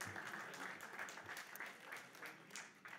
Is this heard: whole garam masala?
no